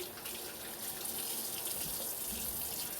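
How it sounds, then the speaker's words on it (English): Water from a tap runs steadily as hands are washed under it in a home kitchen, a constant close rushing hiss with slight splashing changes and no talking. "I'm going to wash my hands and always making sure our hands are clean."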